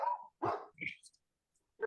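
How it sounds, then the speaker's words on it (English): A dog barks in a few short, separate bursts, fairly near and moderately loud, with quiet gaps in between. "I've got a barking dog in the background."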